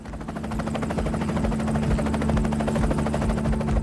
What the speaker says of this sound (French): des hélicoptères américains passent la frontière afghano-pakistanaise